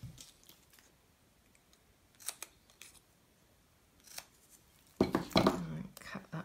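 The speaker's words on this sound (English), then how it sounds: "let's just cut that one" Scissors cut a piece of paper for a suitcase-style gift box, giving a few short snips and crisp paper rustles, with a louder burst of handling noise toward the end.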